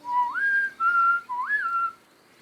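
A clear, tonal whistle, shaped like a human whistling imitating wind blowing through holes in armor, rises and falls in three smooth phrases before stopping, alone and fairly loud.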